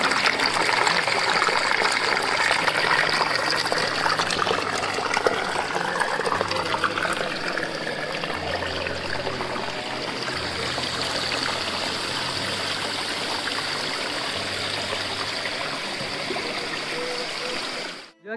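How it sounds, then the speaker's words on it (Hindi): Steady lake water flowing and trickling outdoors, a continuous close rushing wash with a low hum running beneath it, fading out abruptly at the end. "मैं आप लोगों को झील का पानी भी दिखा दूँ"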